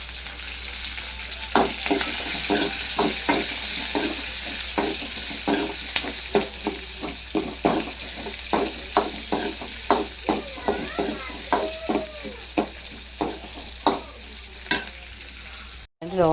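Mustard seeds crackling and popping in hot oil for a Telugu potato-peanut curry, a steady run of sharp pops and ticks over a continuous sizzle, close and fairly loud, with no voices.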